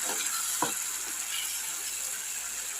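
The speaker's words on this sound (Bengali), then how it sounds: "এরপরে এই মশলাটা কষাতে থাকি" Mixed spice masala for a Sunday chicken dish being sautéed in a pan, a steady hissing sizzle with a few faint spatula scrapes, close and even, no one speaking.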